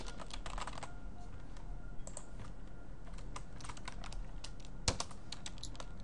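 Password being typed on a computer keyboard: quick bursts of light key clicks, some in fast runs and others spaced out, with a couple of slightly harder taps, quiet and close.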